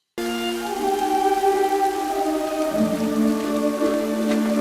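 Steady rain patters continuously while soft sustained orchestral tones swell underneath, fairly loud throughout, no voices.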